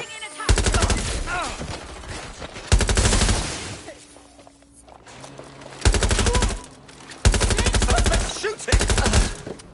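Bursts of rapid automatic gunfire from the video game Watch Dogs Legion crackle loud and close in five separate volleys, with quieter gaps of scattered shots and scuffling between them.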